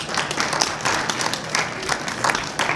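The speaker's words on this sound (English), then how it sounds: "Another extremely well-deserved round of applause for Dennis." A lively round of clapping from a festival audience at the Adelaide Fringe, with individual claps audible in a brisk, uneven patter that stays fairly close and continuous.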